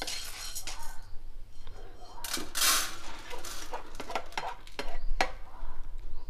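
Toor dal dry-roasting in a pan, stirred with a metal spoon that scrapes and clinks steadily against the pan, close and fairly loud, with faint sizzling underneath and no talk.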